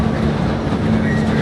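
A train rumbles past loudly and close in Marvel's Spider-Man, a steady heavy roar with a low hum throughout and no voices.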